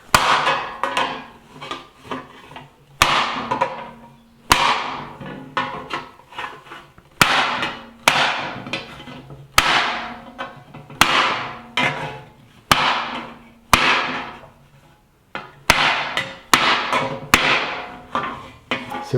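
Sharp hammer strikes on a chasing tool against a solid copper sheet during repoussé work, raising the center of the design; irregular bursts of close, ringing metallic taps separated by brief pauses, with no talk.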